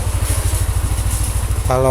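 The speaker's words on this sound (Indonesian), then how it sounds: "Suara mesinnya kayak gini." Up close, a diesel engine running on Mesran B40 oil mixed half with cooking oil idles loudly with a steady, rhythmic low thrum; a brief tonal sound appears at the very end.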